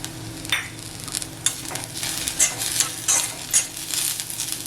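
Ginger and garlic are tossed into a pan of roasted coconut for a chicken masala paste, giving a steady close sizzle with repeated stirring scrapes and soft utensil clinks, with no talking.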